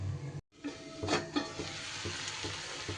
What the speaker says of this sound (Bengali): একটু এইভাবে নাড়াচাড়া করে এবার ভাজা ভাজা করে নিতে হবে